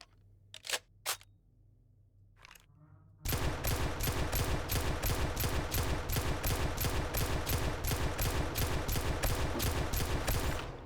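Automatic gunfire at a bear in 7 Days to Die: a few isolated shots, then a long rapid burst of evenly spaced loud bangs, close and sustained for several seconds.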